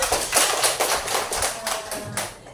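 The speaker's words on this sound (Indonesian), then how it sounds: "Tepuk tangan." An elementary school classroom fills with children's clapping, a lively irregular patter of many hands that swells at the start and gradually tapers off toward the end.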